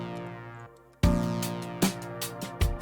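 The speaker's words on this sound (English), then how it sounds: "Without effects, the drum break sounds like this." A dry drum break with no processing: punchy kick and snare hits landing in a loose groove, loud and close, with no voices over it.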